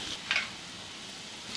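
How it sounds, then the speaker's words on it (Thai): Beef frying in a pan, being stirred and broken apart, gives a quiet steady sizzle, with a short crackling spurt early on and another at the very end. "เอาเนื้อลงกระทะ"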